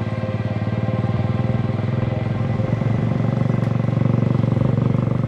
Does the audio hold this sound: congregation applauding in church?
no